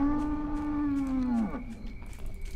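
A single cow in a video game gives one long, low, steady moo that slides down and stops about halfway, followed by faint background noise.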